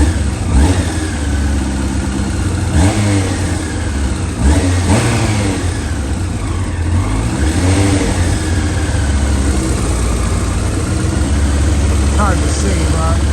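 A Yamaha R1 motorcycle engine runs on choke while warming up, holding a loud, close, steady idle. Throttle blips and slight revs rise and fall through it, and speech may be faintly present beneath the engine.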